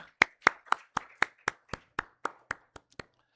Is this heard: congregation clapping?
yes